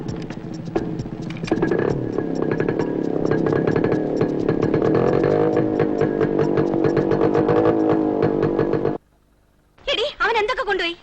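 Motorcycle engine revving close by, a continuous buzzing rumble with rhythmic pulses that runs for about nine seconds before cutting off abruptly; talk breaks in briefly at the end.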